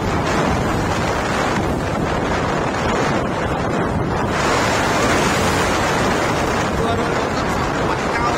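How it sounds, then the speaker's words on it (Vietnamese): Waves surge and crash on a windy winter beach. Strong wind buffets the microphone, and the roar of the surf stays loud and continuous throughout. "Và cơn sóng thứ hai"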